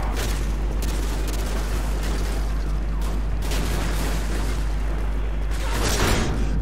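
Sustained gunfire fills a Call of Duty Modern Warfare 2 firefight on Veteran difficulty, a dense continuous rattle of shots and booms, steady and loud throughout with a low rumble underneath.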